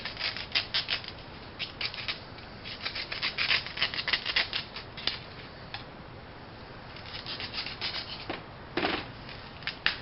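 A handsaw or blade scratching lengthwise through a long dried gourd, uneven rasping strokes in quick clusters with short pauses, close and fairly quiet with no talking.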